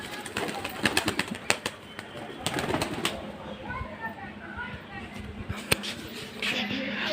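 Pigeons, including a kalpetia pigeon, fluttering and shuffling close by, with sharp wing flaps and clicks over a murmur of background noise and voices.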